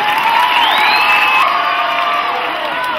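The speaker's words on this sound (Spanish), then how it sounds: "un aplauso, por favor" A large crowd of players and fans celebrating a promotion cheers loudly and steadily, with high shouts and whoops over a constant roar and scattered applause.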